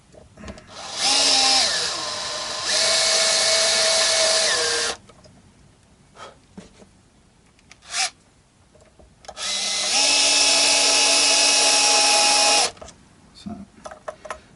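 A power driver whirs in two sustained bursts of about four and three seconds, winding a screw into a Fender-style electric guitar during an upgrade, with a pitch step partway through the first run and quiet handling noises between.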